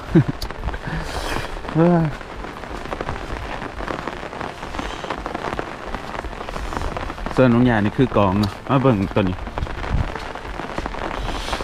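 Steady rain from a storm patters on a surface in the background while people talk nearby during a rice harvest.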